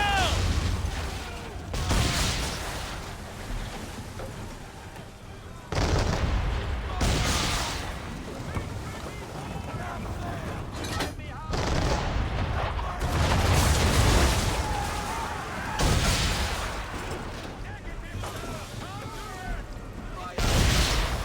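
Cannon fire from the ship Belladonna in Assassin's Creed III, heavy booms bursting repeatedly through fog-bound naval combat, loud and layered with crashing impacts and shouting voices throughout.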